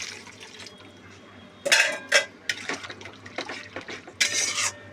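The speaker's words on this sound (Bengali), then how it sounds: "দিয়ে জল দিয়ে দেব দেখো এবার জলটাও দিয়ে দিলাম" Water goes into a pan of mustard-paste curry with live lata fish in short splashing bursts. The splashes mix with light clinks against the pan over a quiet kitchen background.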